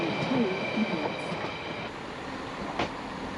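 Class 165 diesel train on the Thames branch line to West Ealing, heard from on board as a steady rumbling ride with a faint squeal and a soft clatter, no talking.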